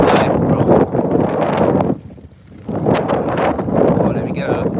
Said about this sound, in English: That's a heavy wind.